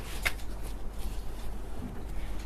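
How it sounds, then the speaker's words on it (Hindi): Tarot cards are drawn and handled from a deck, with a quiet papery rustle and a few soft flicks and slides, close and faint. "मैं सारे कार्ड्स निकाले रही हूँ"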